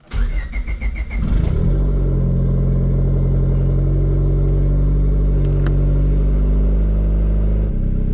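A turbocharged Honda Civic engine cranks and catches at about one second, then settles into a steady, loud idle that holds until the end, with no talking.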